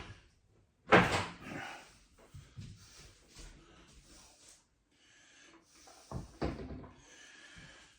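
Cabinet doors under a sink are pulled off with a sharp knock and rattle, followed by quieter shuffling and handling noises and a second knock near the end.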